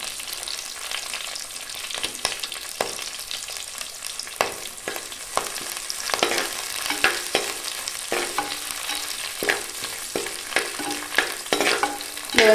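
Sliced onions with curry leaves sautéing in oil in a pan for a village-style country chicken curry, a continuous sizzle broken by repeated sharp scrapes and clinks of a stirring spoon, close and fairly loud.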